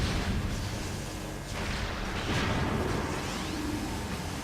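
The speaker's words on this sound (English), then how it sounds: "Oh, someone's shooting me!" Enemy gunfire in Metroid Prime, loud rapid blasts and booming impacts coming in a dense, continuous barrage with whooshing bursts, no voices over it.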